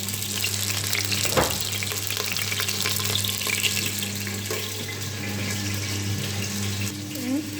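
Pieces of filet mignon frying gently in oil over low heat, a continuous close sizzle and crackle with a low steady hum underneath and a few faint clinks, no talking.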